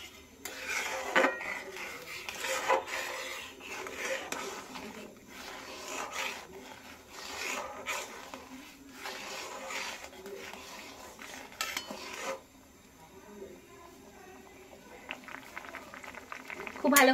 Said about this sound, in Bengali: খুব ভালো করে ডালটা ফুটে গেছে।